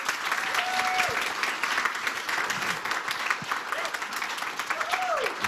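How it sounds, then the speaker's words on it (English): Steady applause from a festival audience after a panel discussion, dense clapping filling the room throughout, with a few faint whistles or calls rising above it. "Let's give them a big round of applause."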